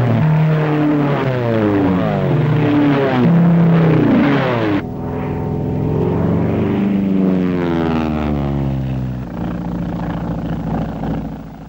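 A propeller aircraft engine runs in a loud, steady drone with a strong harmonic hum that shifts in pitch partway through, without any voices.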